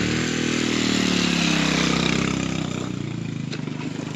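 A motorcycle being brought along a rough, sloping road, its engine running loud and close with a steady drone that eases slightly toward the end, a brief clatter near the finish.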